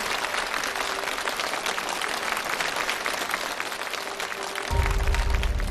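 Studio audience applauding two performers at a televised stunt challenge show, dense sustained clapping that swells louder near the end, with no one talking.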